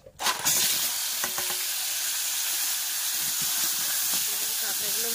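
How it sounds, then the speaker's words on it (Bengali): Sundarbans crabs rubbed with salt and turmeric sizzle and hiss loudly in white oil in a wok, with a steady crackling fry and a few scraping stirs. "কাঁকড়াগুলো ভালো করে ভেজে নেবে।"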